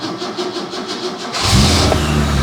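A BMW E21 is started off a jump pack. The engine cranks with a rhythmic churning for over a second, then catches and settles into a loud, steady running note close by.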